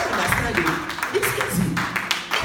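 A church congregation claps for the Lord during a Sunday service, a dense patter of many hands at moderate distance with voices and cheering mixed in throughout.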